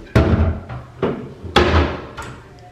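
Mahogany-colored cabinet doors open and close in a quick series of four or five sharp wooden knocks and thuds, close and loud, with no talk.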